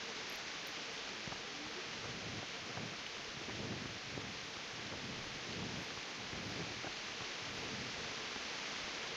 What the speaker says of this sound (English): Terrible night for rain